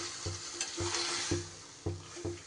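Greens and vegetables for a Malabar spinach labra are stirred in a frying pan. About six quick spatula scrapes come in a steady rhythm over a soft, continuous sizzle, close and fairly quiet.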